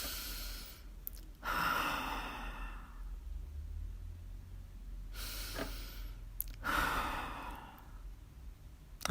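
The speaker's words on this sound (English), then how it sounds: "let's just take a couple deep breaths" Slow, deep breaths taken during a calming exercise, three long audible exhalations spaced a few seconds apart, close and soft, with quiet pauses between.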